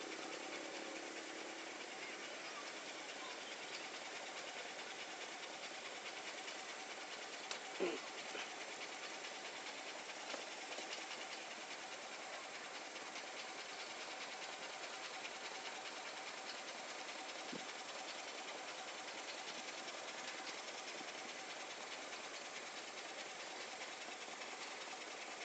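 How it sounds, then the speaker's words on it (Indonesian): Engine of a traditional Indonesian boat runs as a steady, even drone throughout, with a couple of faint knocks. "Tuh Uki naik kapal ya"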